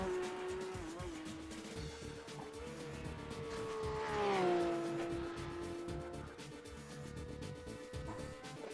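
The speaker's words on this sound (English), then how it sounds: "Got the first GT3s putting in their laps." GT3 race cars lap a circuit in a racing video game, engine notes droning and rising through gear changes as cars pass, with tire squeal mixed in and no talk over it.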